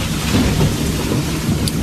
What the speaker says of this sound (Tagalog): Masyado nang malakas ang ulan.